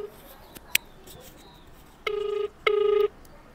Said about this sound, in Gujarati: ફોન કરીએ આપણે